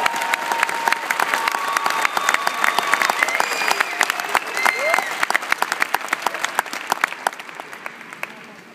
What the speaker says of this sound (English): Please give me a round of applause for Marvin Fuhrmann.